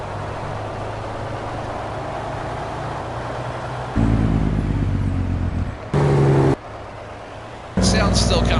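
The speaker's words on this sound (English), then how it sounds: "Still kind of sounds a little weird with the truck. Like when you let off the gas." A truck engine in Farming Simulator 19 on PS4 drones steadily, then shifts into a deeper, louder tone with abrupt jumps in level as the gas is let off. Game audio only, with no voices.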